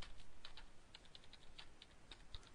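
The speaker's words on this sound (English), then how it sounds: "come down to next line, and type in our web page" Someone types on a computer keyboard in short bursts of light, quick clicks, recorded close and fairly quiet.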